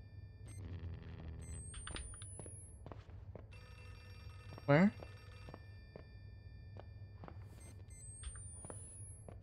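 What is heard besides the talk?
telephone ringing in video game Outlast II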